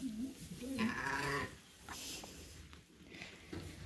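Ewes on a sheep farm during lambing bleat, with a quavering bleat near the start and fainter bleats later, over low barn background noise.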